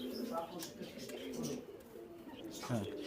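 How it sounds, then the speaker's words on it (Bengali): A Rampuri pigeon coos quietly at a pigeon farm, soft low warbles mixed with a voice nearby. "এটা রামপুরি কবুতর"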